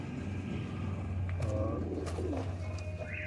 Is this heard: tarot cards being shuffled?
no